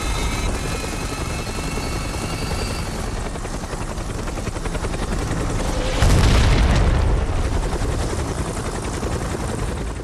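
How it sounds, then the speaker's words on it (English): A dense, rumbling action-film soundtrack from Civil War with continuous rotor-like chopping, then a loud booming explosion midway, with rattling bursts that suggest gunfire, no voices. "massive explosions, loud gunfire"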